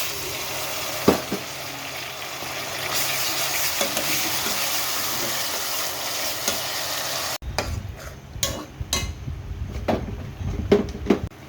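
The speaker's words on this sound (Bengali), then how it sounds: "এই কালারটাই এখন দিয়ে দিব আমি কাটা পেঁয়াজ" Chopped onion fries in a pan for a Bengali wedding-style shahi roast, a steady close sizzle that breaks partway into sharper stirring clatter and scrapes of a spoon against the pan, no talking.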